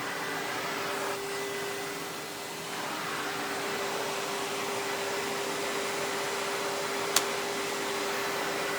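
A Hoover PowerMax Supreme 850 canister vacuum runs with its bare floor tool fitted, giving a steady, close whine and whoosh with no speech and a single sharp click near the end.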